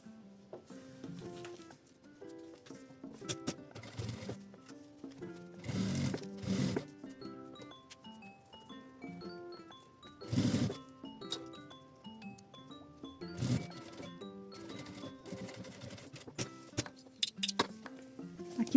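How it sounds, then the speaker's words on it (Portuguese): A sewing machine stitches a zipper pouch with bursts of rapid, rhythmic mechanical ticking, pausing between runs, alongside light clinks and handling of fabric, close and moderately quiet. "Só dobro e passo uma costura de um pezinho de máquina"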